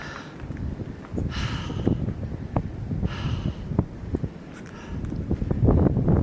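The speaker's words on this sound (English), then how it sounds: "that wind's coming right from there though" Wind blows across the microphone at Clyde Shelter on a hiking trail, a continuous low rumble with stronger gusts and faint rustling or steps mixed in.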